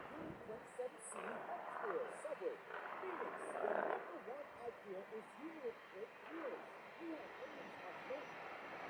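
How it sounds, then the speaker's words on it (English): Airplane taking off from runway 7 in Jamaica, heard up close as a steady, broad engine roar. Faint air-traffic radio talk runs underneath. "clear for takeoff, runway 7 intersection Delta"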